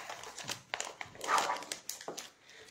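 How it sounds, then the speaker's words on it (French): A dog gives short close yips and whimpering barks in quick irregular bursts, with faint household noise around. "Le chien ici."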